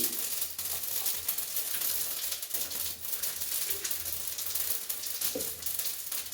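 Mustard and fennel seeds sizzling in hot oil for a fenugreek leaf gojju, a steady crackling fry with small popping spikes, close and even throughout, with no talking.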